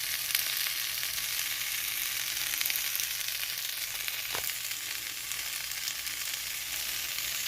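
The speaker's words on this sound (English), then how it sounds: "Just listen to that sizzle." An improvised cheese sandwich sizzles in a frying pan with a loud, steady, close hiss that runs unbroken from start to finish, with no talking over it.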